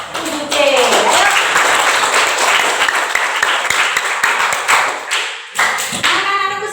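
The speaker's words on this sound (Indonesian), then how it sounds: "Tepuk tangan dulu buat semua kelompok yang ada di kelas 7C." A school class of seventh graders applauds their student groups, a dense burst of clapping from many hands that fills the room for several seconds and then thins out, with a voice speaking near the end.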